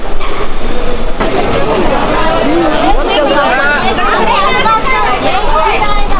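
A Mumbai local train rumbles and clatters through busy Malad station while a crowd chatters loudly all around.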